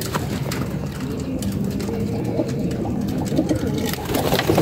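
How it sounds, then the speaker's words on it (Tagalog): Pigeons cooing in a loft or coop, several birds making soft, overlapping low coos over a steady murmur of background noise, continuous throughout. "Nandito nga yung mga kalapate."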